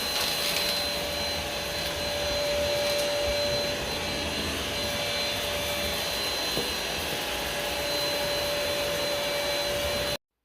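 An Easine H55 stick vacuum runs steadily on a hard floor while picking up Skittles, a loud, continuous close motor whine and airflow hiss with occasional faint rattles of candy, with no talking.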